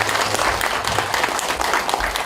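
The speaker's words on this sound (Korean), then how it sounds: "모든 선생님들 감사드리면서 박수로 마치겠습니다." An audience closing an academic conference on religion and peace claps loudly and continuously in a dense, room-filling burst of applause.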